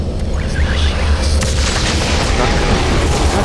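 Heavy, booming gunfire from a big gun in the video game Doom 3 BFG Edition, a dense sustained rumble of blasts filling the scene, loud and close with game noise throughout.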